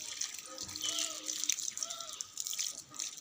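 Water poured as an offering at a tulsi shrine, a soft trickling and splashing pour close by, with faint tonal sounds over it and a quiet background.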